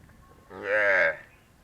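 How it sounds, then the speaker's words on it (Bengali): A calf moos once, a single drawn-out low call of about half a second rising clearly out of a quiet rural setting after rain, with no voices over it. "ওর দিদির ওই আর একটা বাছুর আছে, ওর ডাকতেছে"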